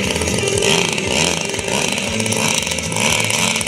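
A 20 cc glow engine on a radio-controlled model airplane runs at a model-flying picnic on Góra Żar, giving a loud, continuous, buzzing drone close by with slight swells in pitch.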